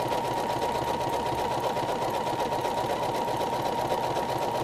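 Regular domestic sewing machine stitching appliquéd circles onto fabric, a close, continuous fast whirring with an even mechanical stitch rhythm throughout and no talking.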